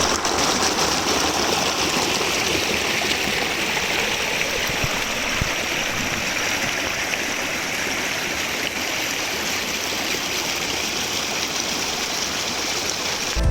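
A river flows near a village in Kotagiri, its steady, full rush of water continuing without break throughout, close and fairly loud, with no voices.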